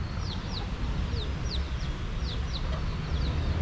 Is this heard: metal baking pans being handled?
no